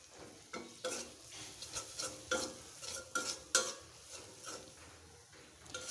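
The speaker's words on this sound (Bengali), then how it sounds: "এখন মশলাটাকে ভালোভাবে কষিয়ে নেব" Sliced onions sautéing with masala for a spicy prawn bhuna: rhythmic spatula scrapes against the pan, roughly once a second, over a soft continuous sizzle, close and fairly quiet.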